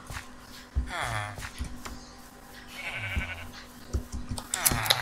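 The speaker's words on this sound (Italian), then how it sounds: "Andiamo a tosare qualche pecora." Sheep in the Minecraft video game bleat several times in quick succession, short wavering cries over a steady background hum with soft clicks, no one speaking.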